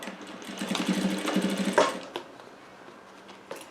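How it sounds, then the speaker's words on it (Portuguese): A sewing machine stitches fabric for a duvet and bedspread organizer in a quick, rapid rattling run lasting about two seconds, close up, then stops and leaves a few faint clicks. "e vou costurar"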